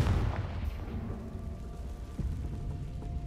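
A Confringo explosive spell from Hogwarts Legacy goes off as a low, muffled boom at the start, then fades into a quiet rumbling tail with a faint second thump.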